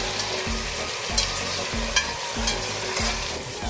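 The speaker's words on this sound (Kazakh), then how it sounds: "Май дайын болды, енді қуыра берсек болады." Meat frying in hot linseed oil in a pot for Samarkand-style plov, with a steady close sizzle and regular scraping stirs roughly every second, without talk.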